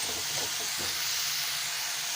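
Tomatoes sauté for kurma in a hot pan, giving a steady, close, broad sizzle and hiss throughout with no talk.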